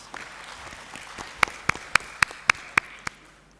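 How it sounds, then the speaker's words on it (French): A small forum audience gives scattered applause for the event organizers, with about seven sharp, distinct claps standing out over a quiet room murmur. "Je voudrais qu'on salue et qu'on applaudisse pour les organisations du forum."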